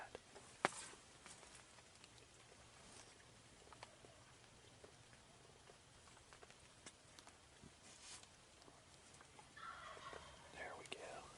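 A wild spring gobbler turkey sounds off in steady rain on an opening-day hunt in Pennsylvania, giving faint, distant gobbles over the soft patter of raindrops in a quiet woodland.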